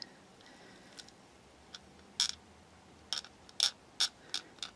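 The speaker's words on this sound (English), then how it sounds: "silly noise time again whilst I scrape this back" A few quiet, short rasping scrapes as a plastic part of a Tamiya 1/12 scale figure kit is scraped back, sparse at first and then coming in a quicker irregular cluster of sharp strokes near the end.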